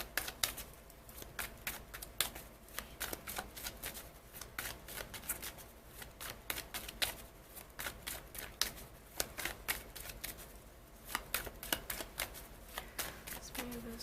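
Continuous riffling and flicking of tarot cards being shuffled, with repeated bursts of crisp papery snaps over several seconds, close and fairly quiet.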